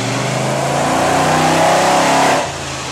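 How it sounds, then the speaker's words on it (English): A Corvette engine fitted with a carburetor and an MSD ignition system revs hard on a dyno, a loud, close roar that climbs steadily in pitch, then drops sharply as the throttle closes near the end. "a horsepower pull just to see where we're at with this carburetor that we have on here now and with the new ignition system"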